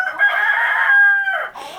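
A hen in a farmyard gives a loud, close, drawn-out cackling call lasting under two seconds, alone with no talk.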